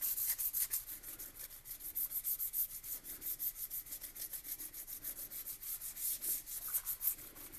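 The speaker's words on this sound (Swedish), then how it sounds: "Så får jag ta och handslipa det." The body of a 1965 Volvo Amazon is sanded by hand in quick, even back-and-forth strokes, a rhythmic rasping scrape repeating steadily at close range, fairly quiet and alone.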